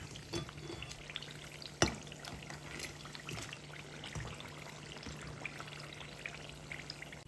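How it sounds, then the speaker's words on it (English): Murukku dough frying in a pot of hot oil, a faint steady crackle and sizzle with scattered bubbling pops and an occasional louder clink, no voices. "allow them to fry for 10 to 12 minutes"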